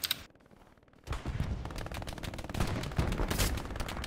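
Video game machine-gun fire rattles in rapid, dense bursts after a brief quiet stretch. The shooting is loud and close and keeps up steadily to the end, with no talking over it.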